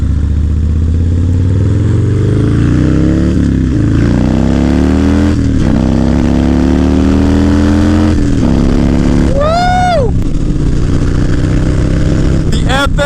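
A Harley-Davidson FXR motorcycle engine rumbles close by while riding, its pitch rising and falling with throttle changes, and a brief high chirp cuts through near the end.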